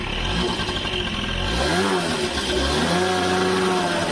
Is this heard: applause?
no